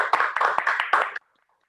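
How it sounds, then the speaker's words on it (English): An audience at a conference inaugural session claps in a brief burst of applause, a dense patter of hands that ends abruptly and leaves near silence. "Round of applause."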